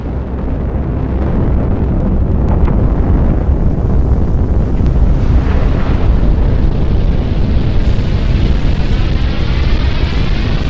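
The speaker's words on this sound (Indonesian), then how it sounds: "sayup-sayup angin berhembus di pekarangan Sultan Syahir" Steady wind roars broadly and loudly throughout, a dense continuous rush with a rumbling low end, as in a film scene set in the courtyard of Sultan Syahrir's residence in August 1945.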